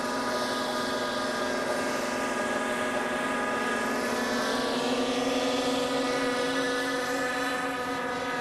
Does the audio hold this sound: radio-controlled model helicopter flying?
yes